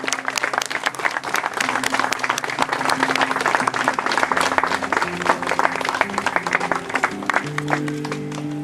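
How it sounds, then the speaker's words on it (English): Wedding guests in Texas give a loud, sustained round of applause, dense clapping running throughout while steady music plays underneath. "give them some big Texas applause"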